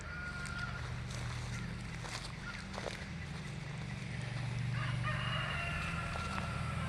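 A rooster crows in the distance over a constant low engine-like rumble, with faint background noise and no clear talking.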